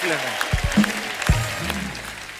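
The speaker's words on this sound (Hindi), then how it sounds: "जोरदार तालियां हो जाए हमारे चारों मेहमानों के लिए।" Studio audience at a television comedy show applauding the guests, steady clapping under a host's speaking voice and thuds, fairly distant.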